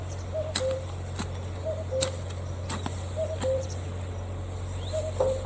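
A cuckoo calls repeatedly in the distance in a village in spring, its two-note coo repeating at a regular pace over a steady low hum, with sharp clicks between calls.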